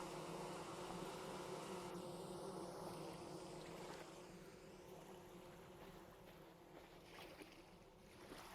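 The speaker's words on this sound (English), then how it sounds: "Third set of bees we found." Bees buzzing in a tree in the game Vintage Story, a faint, steady drone that hovers low in the background throughout, with no talking.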